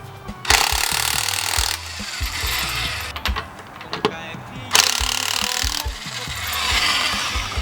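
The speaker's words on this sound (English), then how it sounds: "Good to have the power drill though." A power drill spins lug nuts off a 2015 Nissan Pathfinder 4WD SL wheel in several loud, rattling bursts, stopping and starting close by, with clanks and handling noises between runs.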